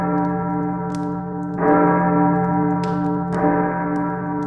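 A church bell tolls three slow, resonant strikes, each ringing out and fading into a long hum, with no voices.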